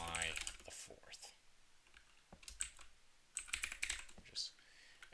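Typing on a computer keyboard while setting up a new NovelBase project: a few short bursts of clicking keys, fairly quiet, mixed with brief talk.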